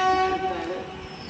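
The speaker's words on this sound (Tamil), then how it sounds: "ட்ரெயின் எடுத்துட்டாங்க." A Mysuru Express sleeper train on the Cuddalore to Bangalore run, with steady harmonic tones like a horn or wheel squeal fading over a broad rumble of the moving train, close and fairly loud.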